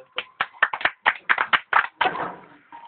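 A few people clap at an animal-rights protest against caged animals, about a dozen sharp, close hand claps in a loose irregular rhythm, ending in a brief scatter of mixed clapping.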